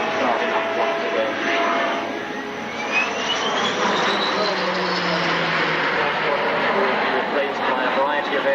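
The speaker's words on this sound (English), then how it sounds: "And there goes the engine starting up once again." At an airshow, an aircraft engine starts up again and roars steadily with a rising whine. The sound is loud and continuous, and an announcer's voice talks over it.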